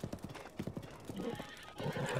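A flaming horse in Zelda Breath of the Wild gallops with a steady, close clip-clop of hooves, then lets out a drawn-out neigh toward the end, with faint game ambience behind.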